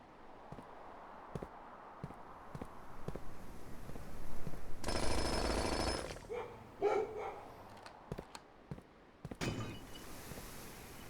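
Dog barks from the video game Blue Prince, a few sharp separate yelps spread over quiet moments, with one louder burst of noise in the middle, no talking.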